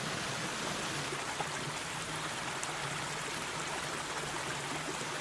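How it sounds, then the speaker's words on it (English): Running water of a woodland stream at Kemback Falls in Scotland, a steady close rushing and trickling that continues without a break and with no voices. "running water."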